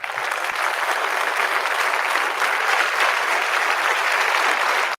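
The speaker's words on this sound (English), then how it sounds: "huge applause" An audience gives sustained, dense applause that stays loud and even throughout, with no pauses.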